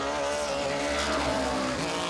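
A race car at speed on a qualifying lap around the Owosso Speedway oval, its engine a steady, loud roar that holds through the whole stretch with a slight swell midway, no voices over it.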